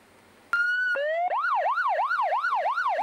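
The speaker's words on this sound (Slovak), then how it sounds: "ale aj sirény záchranárov, hasičov a polície" Emergency vehicle sirens of rescue, fire and police vehicles at a Children's Day event: a loud rising wail that shifts into a rapid, regular up-and-down warble, close and steady, with no talk.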